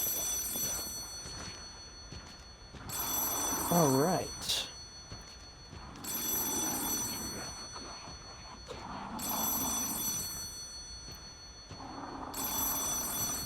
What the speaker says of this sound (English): And we got ourselves another Trinity phone.